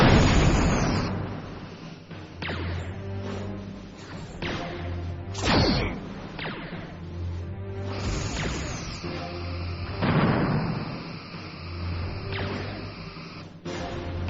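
In the Star Trek Bridge Commander space game, torpedoes launch with whooshing swells and booming explosions several times over, loud and heavy against a low droning ship ambience.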